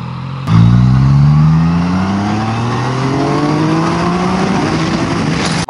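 A Yamaha MT-09 SP three-cylinder motorcycle accelerating hard on a test ride, its engine note climbing steadily in pitch and staying loud and close, then cutting off abruptly at the end.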